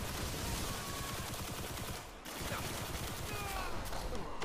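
Rapid shotgun fire in a Supercell shooter video game, a dense stream of sharp blasts going nearly nonstop with one brief gap, loud and close.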